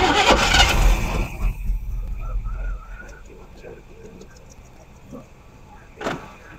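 The engine of a Chevrolet Squarebody service truck catches and roars loudly for a couple of seconds, then dies away, leaving quiet shop ambience with voices talking and a brief clunk.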